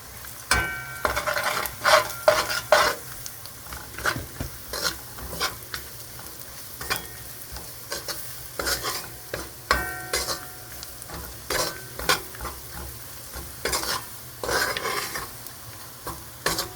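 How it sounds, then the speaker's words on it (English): Guyanese curry sizzling and frying in a pot while a spoon scrapes and stirs through it, steady crackle under irregular stirring knocks, close up with no speech. "Let it cook a little bit. This is called the chunky process."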